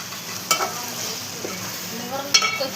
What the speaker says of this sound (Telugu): నేను కలుపుతున్నా.